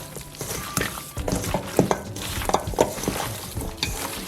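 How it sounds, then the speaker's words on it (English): Raw pork being worked by hand with seasoning and browning sauce in a kitchen, giving close, soft squelching and slapping sounds of meat being rubbed and squeezed, with a few light knocks of a bowl or utensils. "So I'm gonna massage this flavor into my pork."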